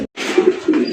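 Fancy racer gola pigeons give a brief, close, continuous throaty coo with a short wavering pulse, after a tiny gap at the start.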